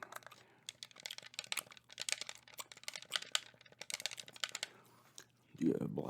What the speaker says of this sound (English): This controller makes good clicking sounds on the thumbsticks.